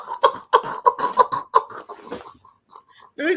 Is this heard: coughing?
yes